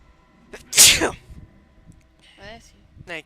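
A single loud, close sneeze bursts out during a gaming stream, followed by a short pause and then brief talk.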